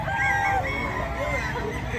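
At a chicken sale in Lipa, Batangas, a rooster crows close by, a brief strained call over a dense background of other fowl and crowd noise.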